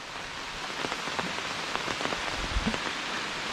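Heavy cyclone rain pours steadily, drumming on a surface with a dense hiss and scattered close drops patting nearby, loud and constant with no voices.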